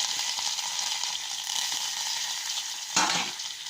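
Coriander powder, cumin and curry leaves sizzle in hot oil in a pan, giving a steady, close frying hiss with a brief louder burst of crackle near the end.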